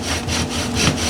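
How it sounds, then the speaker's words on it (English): A thick peroba rosa wooden spindle grinds in an Egyptian fire-making drill under heavy downward pressure, giving close, steady rasping friction in rhythmic strokes with no talking. "I'm applying more pressure than normal than on a bow drill."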